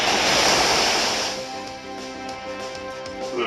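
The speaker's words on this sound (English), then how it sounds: "here comes the Waterfall on Porygon2" A Waterfall attack from Pokemon Omega Ruby and Alpha Sapphire hits in an online battle, a loud roaring surge of rushing water that fades after about a second into softer game tones.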